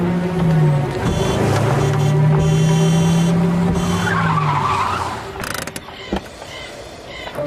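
A car brakes hard and its tires squeal in a long skid to a stop, the screech loud and sustained for about five seconds before fading out, with no talk over it.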